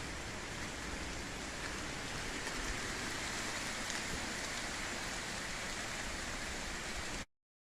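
Heavy rain falls during a thunderstorm in jungle along a creek, a steady, dense hiss of downpour that continues evenly before cutting off abruptly near the end.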